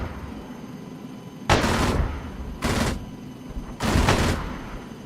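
Aircraft guns firing in a co-op military video game: three loud, separate bursts of rapid fire, each lasting under a second, spaced about a second apart over a quiet background hum.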